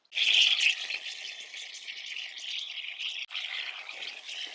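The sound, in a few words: washing freshly harvested turnip and root vegetables in water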